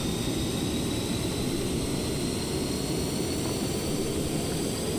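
A jet engine spinning up in the Stormworks game, heard as a steady, dense roar with a faint high whine that holds level throughout, with no other sounds.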